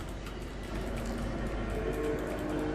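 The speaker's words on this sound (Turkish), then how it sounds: "Tren gelmiş abi." In the Fortnite video game, a train rumbles in steadily and continuously with a low mechanical drone, without talk.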